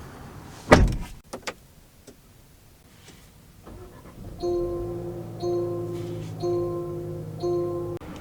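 A 2023 Land Rover Defender 30th Anniversary Edition, four-cylinder: one solid door thump near the start and a couple of small clicks, then a quiet pause before a repeating electronic chime sounds in regular pulses inside the cabin.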